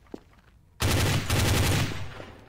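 Loud, close automatic gunfire in the video game Counter-Strike: Source: a sustained, rapid burst of shots that starts abruptly, follows a brief faint click and carries on for well over a second.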